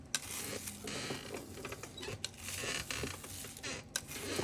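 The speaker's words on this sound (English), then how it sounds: "Sorry for the creaking noise of my table," A table creaks under pressure while polymer clay is pressed and shaped on it, giving quiet, irregular creaks and small ticks with soft handling noise, close by but faint.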